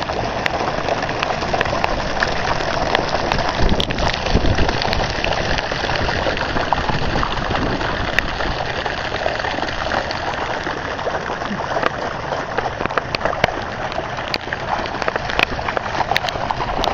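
Heavy rain pours steadily during a football match, a dense, continuous hiss with scattered sharper drops and splashes throughout, loud and close.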